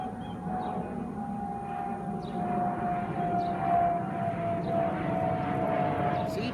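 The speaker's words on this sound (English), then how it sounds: "airplanes do fly right over our street" An airplane flies over a residential street, a steady broadband engine roar that swells slightly and holds throughout, with a constant tonal hum and faint outdoor background.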